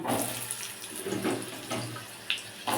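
Chopped potato pieces hitting hot oil with tempering spices for a rajma dish, giving a close, continuous sizzle and crackle with a few sharper spits.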